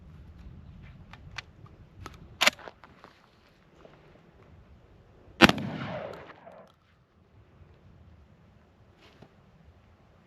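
A Beretta A300 Ultima Patrol shotgun fires buckshot at an outdoor range during patterning. Two sharp blasts sound several seconds apart, the second louder with a rolling decay, over faint rustling and footsteps.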